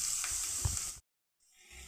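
Hot ghee poured over carrot halwa sizzles briefly with a bright crackling hiss, cuts off abruptly into silence, then a softer fizz resumes; no one speaks.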